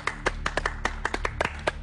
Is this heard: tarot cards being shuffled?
no